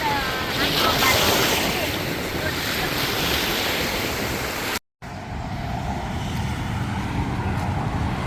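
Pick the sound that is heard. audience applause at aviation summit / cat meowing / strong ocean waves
strong ocean waves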